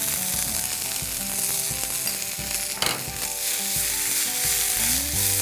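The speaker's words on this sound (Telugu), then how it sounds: "పచ్చిమిర్చి వేగిన తర్వాత పుదీనా, కొత్తిమీర, రెండింటిని ఇందులో వేసేయాలి." Mint and coriander leaves fry in a pan with green chillies for hariyali chole, giving a steady, close sizzle with occasional stirring scrapes and no talk.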